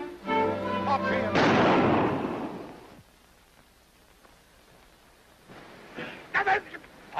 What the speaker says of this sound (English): I've been shooting in the wrong direction.